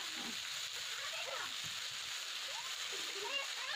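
Spinach leaves sizzle and spatter in a pan of hot oil as a palak sabzi cooks, a continuous close hiss with faint speech underneath.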